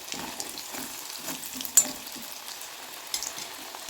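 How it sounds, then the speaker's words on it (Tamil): Potato pieces deep-frying in hot oil, a quiet continuous sizzle with scattered crackles and a few sharper pops, heard alone without voices. "எடுத்து இன்னொரு பேட்ச் வச்சுருக்கேன் அதையும் போட்டு நம்ம பொறிச்சு எடுத்துக்கலாம்"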